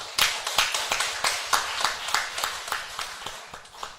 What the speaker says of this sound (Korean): 우리 하나님 앞에 영광의 박수를 한번 올려드리십시다